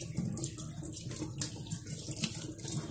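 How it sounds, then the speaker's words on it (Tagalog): A bathroom tap runs steadily during hand washing with soap, giving a soft, constant splashing stream of water with no speech over it. "So, pinatay ko na yung tubig."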